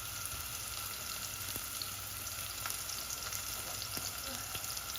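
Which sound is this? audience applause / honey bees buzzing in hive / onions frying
onions frying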